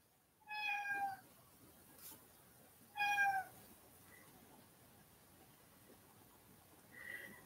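A house cat meows indoors, two clear, fairly close calls a couple of seconds apart, then a fainter third one after a long quiet stretch.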